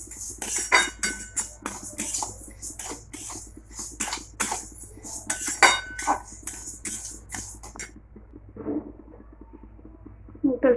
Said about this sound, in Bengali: মুগ ডালটা ভালো ভাজা হয়ে গেছে প্রায়,